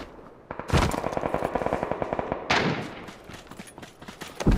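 Rapid automatic gunfire in a PUBG squads match on a desert map, loud, dense bursts of shots running almost continuously with a sharp burst at the end, no talk over it.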